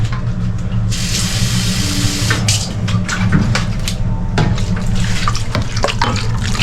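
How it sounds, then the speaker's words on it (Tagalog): Water runs steadily from a tap, a continuous close splashing hiss with brief clinks and knocks on top, no talking. "Tubig."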